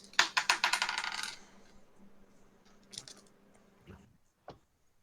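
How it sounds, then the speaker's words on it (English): Dice-roll sound effect in a tabletop game, a rapid rattling clatter of several quick clicks up front, fading into sparse faint ticks and a final sharp tap. "I held the button down so you could hear the annoying dice sound"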